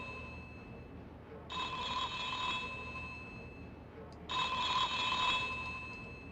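An electronic telephone in a video game rings in two long trilling bursts, each about two and a half seconds, separated by a short pause and heard fairly clearly over a low background hum.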